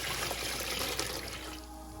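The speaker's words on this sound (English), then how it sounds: "I'm gonna pour it in this bin I've got right here" Salmon brine poured into a bin, a steady close liquid splash and trickle running for about two seconds and easing off toward the end, with no talk.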